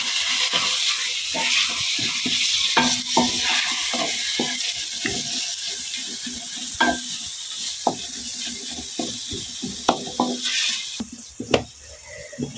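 Tomatoes are stirred into frying desi masala okra, with irregular scraping and clacking of a spoon in the pan over a low background sizzle.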